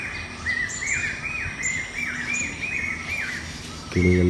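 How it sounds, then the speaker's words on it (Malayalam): Birds in a plantation near Munnar chirp in quick repeated rising calls over a soft outdoor background, with a voice cutting in briefly at the very end. "കിളികളുടെ സൗണ്ട്."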